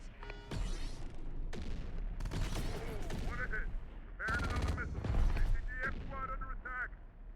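Explosions and blasting from the video game Terminator Dark Fate: Defiance. Loud, ragged bursts and rattling blasts come in clusters, with short gaps between them.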